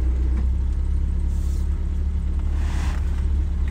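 A 1967 Citroen DS 21 Pallas with fuel injection and a four-speed column-change manual pulls away and drives, giving a steady, loud low engine rumble with road noise from inside the car.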